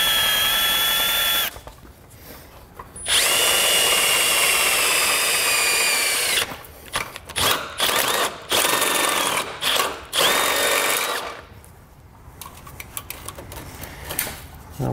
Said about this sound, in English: you don't want to get too crazy drilling all the way through